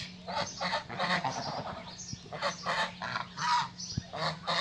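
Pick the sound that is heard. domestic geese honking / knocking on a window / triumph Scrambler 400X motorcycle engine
domestic geese honking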